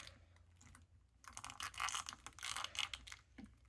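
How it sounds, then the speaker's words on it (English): A stiff Hiya Toys Kong action figure joint, unheated and hard to move, gives close, faint creaking and scratchy clicking as it is bent, in a short cluster of gritty bursts. "I didn't heat up this figure, so it is kind of hard to move, as you can hear"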